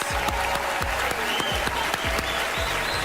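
Crowd applause with steady clapping throughout, fairly loud and dense, with occasional sharper claps standing out.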